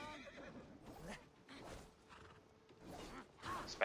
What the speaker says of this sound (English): Horses give them advantage, but it will not be enough.